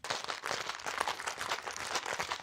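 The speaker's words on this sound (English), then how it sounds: "And now it's time to shake with some ice." A margarita being shaken with ice in a cocktail shaker, a rapid rattling rhythm of ice striking the tin that keeps up continuously from start to finish.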